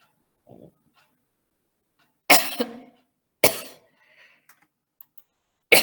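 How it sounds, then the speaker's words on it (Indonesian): Two sharp coughs break out in a quiet room, followed by a few faint clicks and a third cough at the end, with no talking. "Maaf nih batuk sedikit."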